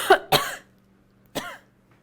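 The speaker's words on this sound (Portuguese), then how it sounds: "É só uma tosse, bem rapidinho." Three short, sharp coughs from a single person, two close together and then one more after a brief pause, with near silence between them.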